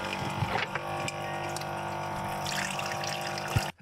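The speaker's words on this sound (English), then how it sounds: "I'm actually gonna drain some of that water inside." Water from cooked pasta pours steadily into a sink, a continuous rushing splash that stops abruptly at the end.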